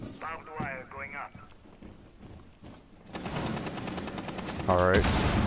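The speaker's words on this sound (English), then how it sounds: "Gunfire. Up above." Rapid bursts of gunfire in Rainbow Six Siege crackle in the background, growing louder toward the end, with brief voice-like sounds mixed in.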